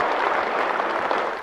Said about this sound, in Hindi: जोरदार तालियों से इनका स्वागत करते हैं।